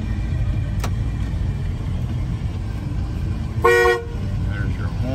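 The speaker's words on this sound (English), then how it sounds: "There's your horn." A 1978 GMC K1500 pickup truck sounds one short, bright honk of its horn partway through, over a low idling rumble.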